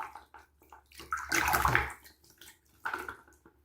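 Water splashes and sloshes in a foot soak basin with baking soda added, a burst of pouring or stirring mid-clip between quieter drips and light movements, close up and without talk.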